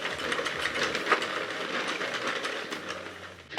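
A Sentro knitting machine's crank turns with a rapid ratcheting clatter of plastic pegs and gears, steady and close, with no talking.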